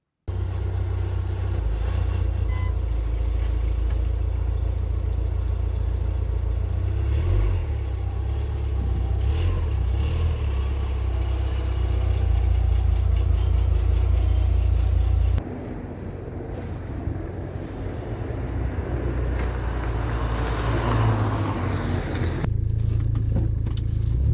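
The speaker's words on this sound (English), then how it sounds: "So let's get the car started and let's get going." Car engine turns over, catches and settles into a rough idle with a few revs, close and loud throughout, as the car is readied for its MOT test, with a brief drop in level midway and no talk.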